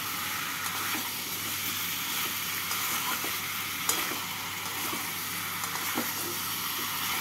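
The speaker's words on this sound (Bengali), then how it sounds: "মিষ্টি কুমড়োগুলোকে আলু আর মশলার সাথে নাড়াচাড়া করে নিচ্ছি।" Fried pumpkin pieces being stirred with potatoes and spices in a pan, giving a soft continuous sizzle with occasional light scraping and clinking of the spoon, fairly quiet and free of speech.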